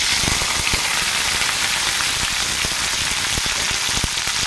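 Okra and green chillies frying in hot oil in a kadhai, a loud steady sizzle with scattered sharp crackles and pops throughout, no talking.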